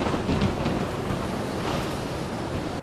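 Stormy weather rumbles in a steady loud roar of wind and rain-like noise, with low thunder-like swells throughout.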